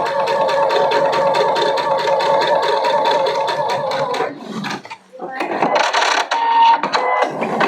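A sewing machine stitches fabric along a 1 inch seam, running with a steady rapid mechanical rhythm for about four seconds before stopping. A brief pause follows, then a busier burst of clattering and handling sounds.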